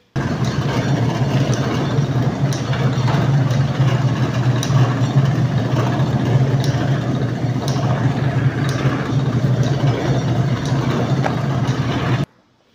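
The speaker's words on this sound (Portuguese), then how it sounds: "esse barulho que vocês ouviram aí, é um cilindro aqui, eu passei um cilindro aqui" Electric dough sheeter roller running steadily as bread dough is rolled through it, a constant low motor drone with a humming mechanical tone that stays level for about twelve seconds and then cuts off abruptly.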